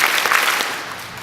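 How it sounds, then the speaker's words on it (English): A graduation audience in San Diego claps in response to a game of Simon Says, a dense burst of hand claps that fades over about a second. "Simon says, clap them twice."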